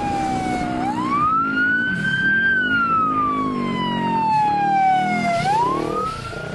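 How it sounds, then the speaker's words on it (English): A Sound Off Signal 385 handheld remote siren, a compact emergency-vehicle siren driving a single 100-watt speaker, wails loudly in slow rising and falling sweeps, close and alone. "Our new 385 handheld remote siren is a compact size siren with remote"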